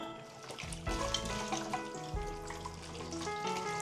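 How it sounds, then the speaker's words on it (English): Tap water runs steadily into a container being refilled with filtered water for the plants, a continuous close splashing rush whose pitch shifts as the vessel fills. "We need to refill filtered water for watering flowers."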